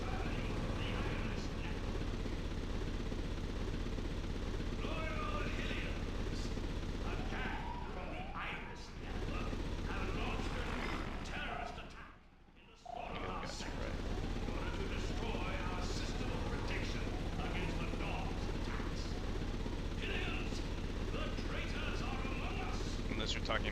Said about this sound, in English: This is a hovercraft.